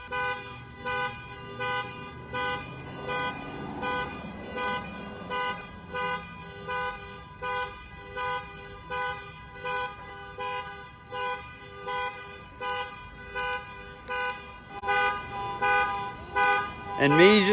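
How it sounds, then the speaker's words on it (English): Car alarms blare outside a sheriff's department, a loud steady pulsing honk repeating about once a second throughout, with a voice talking over it and a louder burst near the end. "They set the car alarms off to drown me out."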